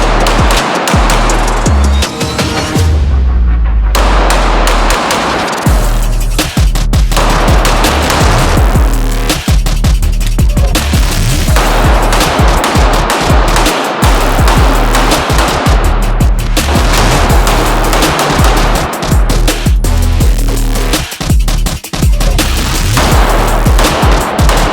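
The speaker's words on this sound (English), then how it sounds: "It's the first time actually ever shooting one of the TTI Caniks" A Taran Tactical Canik pistol fires loud, close shots in rapid strings, sharp cracks repeating almost continuously, with gunfire from other shooters on the range mixed in.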